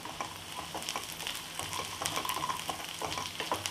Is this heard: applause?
no